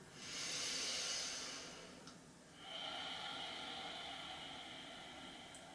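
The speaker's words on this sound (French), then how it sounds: "Prenez une grande respiration." A deep breath drawn during a yoga breathing exercise: a long, close, airy hiss that swells, dips briefly, then carries on steadily as a softer, sustained rush of air.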